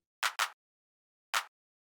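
Minimal house clap sample, slightly pitched up, played as a quick double hit followed after a pause by a single hit, each short, bright and dry.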